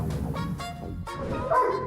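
A dog in a backyard barks several times close up, giving short, yappy bow-wow bursts that run into a brief whine at the end.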